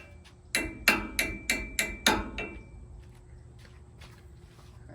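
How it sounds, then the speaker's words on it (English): Six sharp metal hammer strikes drive a bushing into a Kawasaki Mule clutch in a workshop, landing in a quick, even rhythm, close and loud, then giving way to faint background noise. "go over here and hammer it in real quick"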